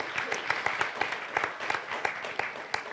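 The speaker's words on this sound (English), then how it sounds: "I think a round of applause also to you" Conference audience clapping for the MC, a modest round of individual hand claps with a loose, uneven rhythm, moderately close and lasting only a few seconds.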